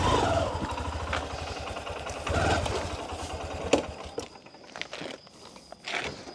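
A Yamaha N-MAX scooter engine runs nearby at a low idle, a steady mid-level putter that fades and swells slightly, with occasional clattering knocks.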